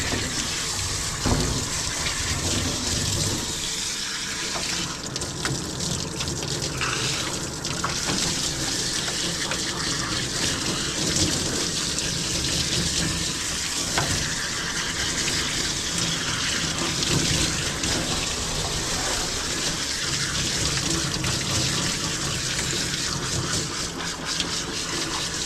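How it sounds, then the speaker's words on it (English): Steady running water from a sprayer rinses soap off a dog during a grooming bath, a continuous close gushing and splashing that lasts throughout. "And we're gonna rinse."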